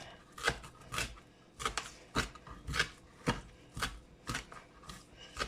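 Fresh cilantro roughly chopped with a knife on a cutting board, a series of crisp, close knocks in an uneven rhythm, about a dozen strokes in a few seconds.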